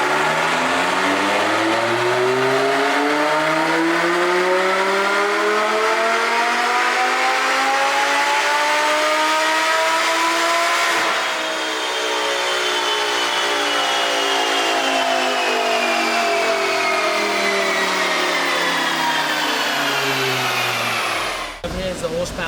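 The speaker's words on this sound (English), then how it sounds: "Hopefully we get another dyno pull." Supercharged Audi R8 with a VF-Engineering supercharger revving hard on a dyno, its engine note climbing steadily in a long loud pull lasting about twenty seconds before cutting off abruptly at the end.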